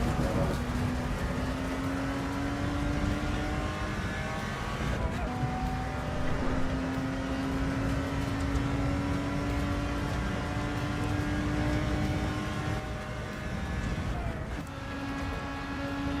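A car engine in the racing game Assetto Corsa Evo drones steadily and loudly, its pitch climbing slowly through long gear pulls with brief dips at shifts, and there is no talk.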